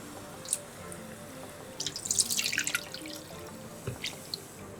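Filtered water poured out for cleaning, heard as a short stream of splashing and dripping that swells in the middle of the clip, with a few separate drips before and after, close up and with no talking.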